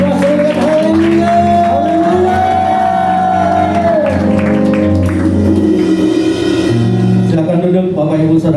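A church congregation at a GBI Growth Grand Duta worship service claps and cheers over steady live music, with scattered shouts and whoops running loud throughout.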